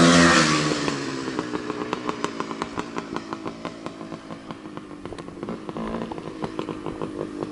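Single-cylinder piston-port two-stroke engine of a 1974 CZ250 motocross bike idling steadily close by, a rapid popping beat that starts loud and settles to a slightly uneven idle.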